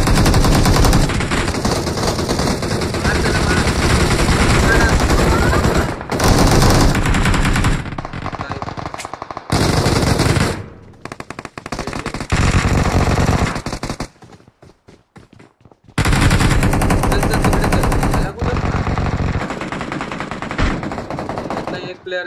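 Gunfire in the mobile battle royale game BGMI, loud rapid automatic bursts in long stretches separated by brief pauses, close and dominant.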